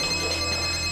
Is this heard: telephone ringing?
yes